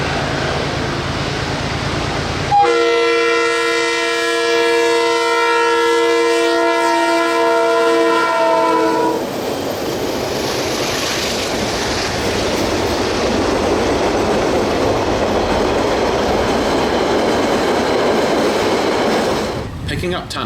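Diesel locomotives DXC 5212 and DC 4951 hauling DC 4876 sound a long loud multi-tone horn blast, followed by heavy engine rumble and rolling wheel noise as the train passes close by.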